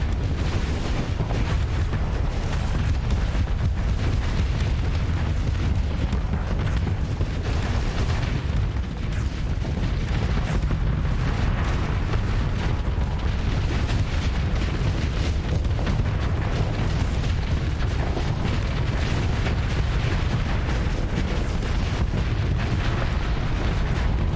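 Ship guns in the space combat game Starsector fire continuously in a dense, loud barrage of booms and bursts, a steady wall of explosive weapon fire with no talking.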